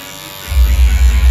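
An electric hair trimmer switches on after a short silence and buzzes loudly and steadily, close up, with a low pulsing hum.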